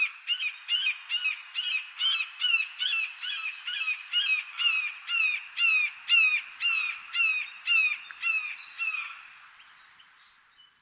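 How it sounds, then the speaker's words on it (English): A red-shouldered hawk calls over and over in a fast, steady series of sharp, two-part screams, loud and close, about two per second for nearly ten seconds before trailing off. "And first sound is going to be the red-shouldered hawk."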